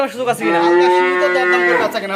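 A cow at a cattle market lets out one loud, close, sustained moo lasting about two seconds, rising and then trailing off, with no talk over it.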